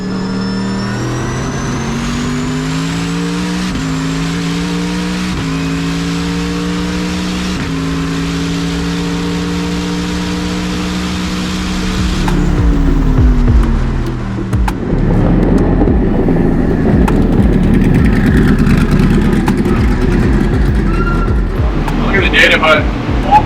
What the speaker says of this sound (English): Feras is getting in some of his first practice laps in the Corvette